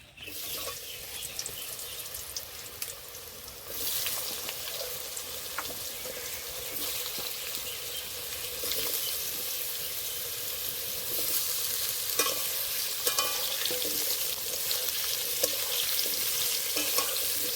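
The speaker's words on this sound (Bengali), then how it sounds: "আলু ভাজা তেলেই আমি ইঁচড়গুলো ভেজে নেব" Young jackfruit frying in oil left from frying potatoes, giving a dense, continuous hiss and sizzle that grows louder after the first few seconds and carries on steadily with faint stirring.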